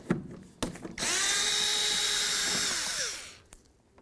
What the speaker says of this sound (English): So we're going to remove these 3 bolts with a T27.